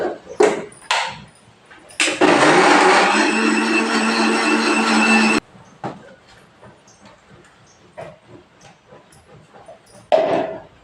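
A kitchen mixer grinder whirs loudly for about three seconds, grinding a masala of coconut, ginger, cloves, poppy seeds and homemade sambar powder for Hassan-style mutton sambar, framed by clinks and light handling noises before and after.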